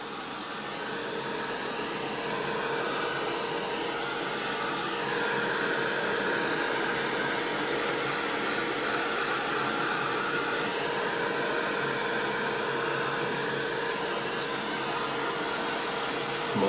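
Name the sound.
hair dryer drying paint on a doll painting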